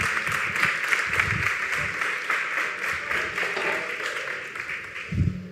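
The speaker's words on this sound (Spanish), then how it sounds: "un aplauso, por favor" A live podcast audience claps steadily in welcome for an arriving guest, a sustained even patter of many hands with a few low thumps, no talk over it.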